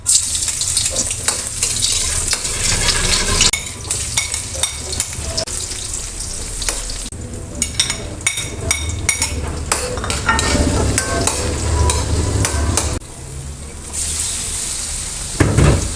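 Chicken gizzards sautéing with garlic, onion and ginger in a pan, a loud steady sizzle broken by scraping stirs and a few brief clatters, with no talk over it.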